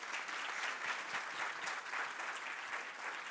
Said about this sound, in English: Please join me in thanking with a round of applause for our panelists.